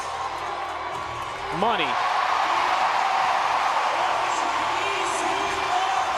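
Arena crowd at the 2017 CrossFit Games cheering a one-rep-max snatch, a sustained roar with whoops rising suddenly and holding, while a commentator talks over it.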